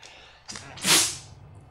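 A person sneezes once, a short sharp intake followed by a loud breathy burst, close to the microphone in a quiet room.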